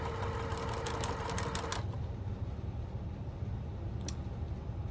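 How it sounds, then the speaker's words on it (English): A sewing machine stitches fabric pieces for crumb-pieced postcards, giving a quick, rapid mechanical clatter for about two seconds before it stops, leaving steady background hum and a single faint click later. "Go ahead and start my sewing."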